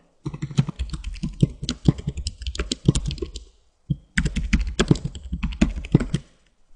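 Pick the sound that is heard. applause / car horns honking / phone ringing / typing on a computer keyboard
typing on a computer keyboard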